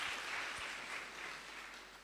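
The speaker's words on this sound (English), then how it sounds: "another round of applause to Dr. Peter Mutesa's here." Faint audience applause for a speaker at a forum on freedom of expression and assembly, a soft continuous wash of clapping from a distant crowd that tapers off slightly.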